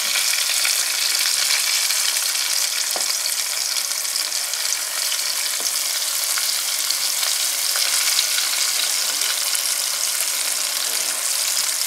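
Loud, continuous sizzling and crackling of chicken frying in a hot pan over high heat, a dense bright hiss with occasional pops, close by and without talk.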